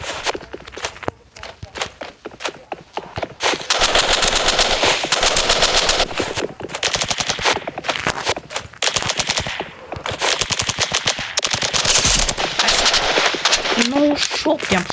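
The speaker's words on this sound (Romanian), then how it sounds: "Uzi îmi place mie." Rapid Uzi submachine gun bursts in a Minecraft shooter game, loud sustained automatic fire in long stretches mixed with footsteps, with brief pauses between volleys.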